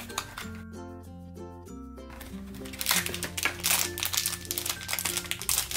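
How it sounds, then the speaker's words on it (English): A plastic Disney Doorables toy package is torn open by hand, with crisp crinkling and crackling that starts about halfway through, after a stretch of background music. "Oh, I opened it without scissors,"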